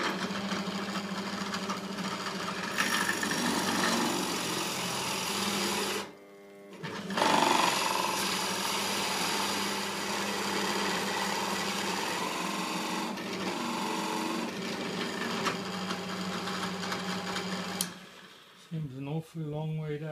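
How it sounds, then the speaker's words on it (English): A power drill bores three holes into the wooden seat of a turned stool in a woodturning workshop, a loud steady grinding whir running almost continuously, with a brief pause midway and a quieter end. "and I drill the three holes."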